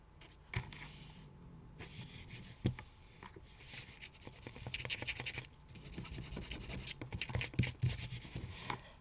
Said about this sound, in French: on va mettre notre papier blanc pour pouvoir écrire notre mot